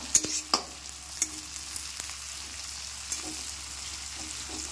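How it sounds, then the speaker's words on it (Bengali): Onions frying in a pan for a duck egg chowmein, a soft steady sizzle with a few sharp clicks and scrapes of a spatula stirring, fairly quiet and without talk. "পেঁয়াজটা একটু ভাজা হোক, অল্প একটু লাল লাল হোক"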